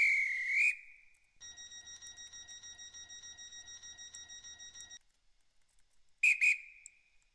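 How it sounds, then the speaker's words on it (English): A train whistle in the Roblox railway game Stepford County Railway: a short electronic chirp, then a long sustained steady whistle lasting several seconds with a pulsing tremor, followed by a quiet pause and two quick bright chirps, no talking. "Alright, whistle."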